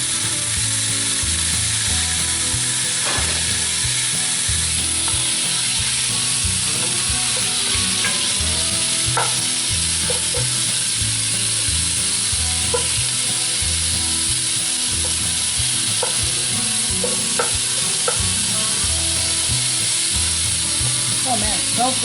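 Moose meat sears loudly in hot oil in a Lodge 12 cast iron Dutch oven, a constant dense sizzle with scattered pops and occasional metallic scraping from stirring.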